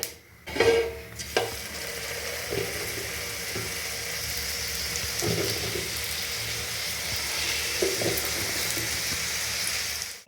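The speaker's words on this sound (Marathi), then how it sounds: "आता मी यांना शालो फ्राय करून घेते" Matar cutlets shallow-frying in hot oil in a pan, a steady close sizzle throughout with a few clinks and knocks of a spatula near the start.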